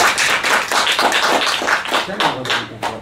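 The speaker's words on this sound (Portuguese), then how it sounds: "Vamos aplaudir o Senhor Jesus?" Congregation at a church service claps in steady rhythm in praise of Jesus, a loud, close run of repeated handclaps with voices mixed in toward the end.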